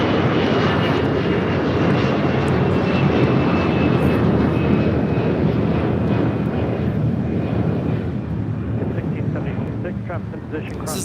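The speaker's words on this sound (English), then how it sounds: "This is Air Canada 792 taking off to Toronto on an A321." An Air Canada Airbus A321 takes off from LAX bound for Toronto, its engines a loud, steady roar that fills the whole clip with faint wind buffeting on the microphone and some talk beneath.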